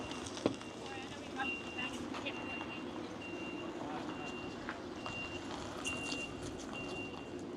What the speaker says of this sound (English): Oh, it's backing up.